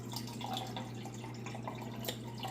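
A gallon of purified water is poured into a container, a close trickle with dripping and splashing over a steady low hum.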